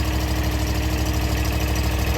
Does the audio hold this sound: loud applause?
no